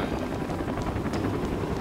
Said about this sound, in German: Ist Jäger direkt mit dem Hubschrauber in das Kraftwerk geführt